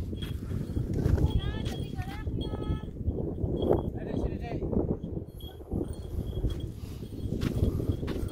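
Horse hooves clip-clop steadily on a sandy trail while riding up Mount Bromo, a rhythmic muffled plodding under wind noise, with people talking over the ride.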